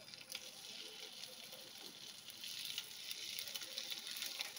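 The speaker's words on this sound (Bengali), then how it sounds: "এবারে আমি কাবাবগুলো এরমভাবে দিয়ে দেবো।" Chicken kebabs frying in melted butter in a pan, giving a soft, steady sizzle and crackle that grows slightly louder partway through, with no one talking.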